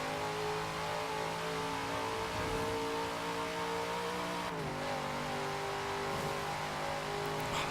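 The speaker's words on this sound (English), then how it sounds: "Oh, this engine sounds so good." A car engine in Forza Horizon 4 holds a loud, steady harmonic drone, its pitch dipping briefly midway before settling again, continuous with no pauses.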